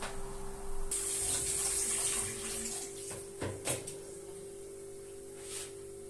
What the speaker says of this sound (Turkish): Hemen şehriyem kavururken ben pirinci yıkayım.